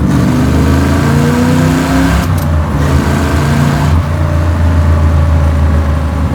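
A 1965 Corvette V8 runs loud and close, its rumbling idle rising through rev changes with shifting engine pitch and a brief dip before settling, with no talking.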